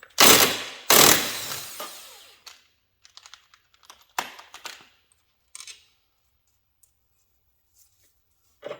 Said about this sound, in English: we'll use our impact on this